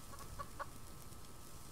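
A chicken gives a few short, soft clucks close by over a faint background hiss, then falls quiet.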